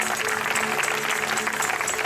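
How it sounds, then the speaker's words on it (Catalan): A crowd gives loud, continuous applause for a musician at a live music event, a short, dense burst of clapping at steady volume. "un aplaudiment ben fort per a Edo!"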